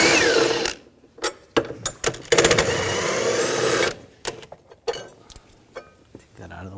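A 15mm socket on a ratchet or power tool spins out a valve cover bolt on a 2007-2013 BMW X5 3.0L inline-six, in short loud close bursts with pauses and clicks between them, and a voice briefly speaks.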